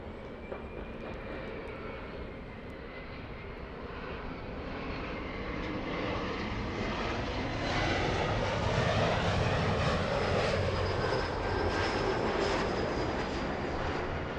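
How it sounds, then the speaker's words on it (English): Jet engines of a KLM Boeing 777-300 arriving from Amsterdam on final approach, a steady broad roar that swells gradually and holds loud near the end, with a faint high whine over it. "Behind the E175, I'm very happy to say we have the big 777-300 flying in from Amsterdam"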